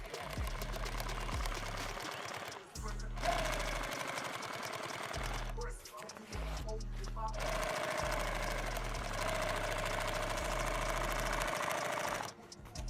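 Sewing machine stitching a rifle case, loud bursts of fast mechanical stitching that stop and restart several times, with people talking during the pauses.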